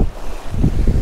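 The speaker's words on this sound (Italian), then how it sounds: "Il vento è sostenuto" Strong wind gusts buffet the microphone at a fishing spot, a steady low roar that swells louder in the second half, with no talking.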